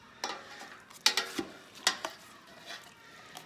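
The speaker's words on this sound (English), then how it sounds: "Let me see if I can grab a little thing and I'll stir it around a little." Roasted vegetables and bones for bone broth stirred in a pot, giving a few scattered clinks and scrapes of a utensil against the pot, quiet and close, with no talk.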